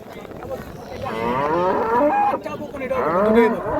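A Friesian cow at a cattle market gives a long, loud, drawn-out moo close by, followed by a second shorter call, with faint crowd murmur behind.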